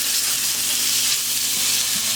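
Steak searing in a hot pan, cracked pepper and kosher salt crust, a steady loud hissing sizzle throughout with no pauses, close and continuous.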